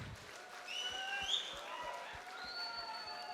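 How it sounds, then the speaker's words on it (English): An audience applauds at an engineering awareness program on a professional engineers act and building code, a soft, steady wash of clapping held at a fairly even, distant level for a few seconds. "Give him a big round of applause."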